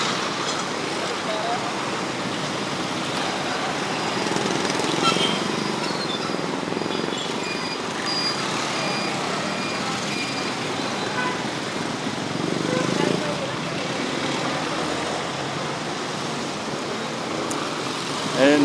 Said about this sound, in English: Traffic is pretty loud.